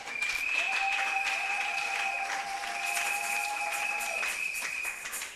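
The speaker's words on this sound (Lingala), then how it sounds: "Acclamez très fort l'Éternel." A church congregation claps loudly in a dense, continuous burst of applause, with a sustained high tone ringing through the middle.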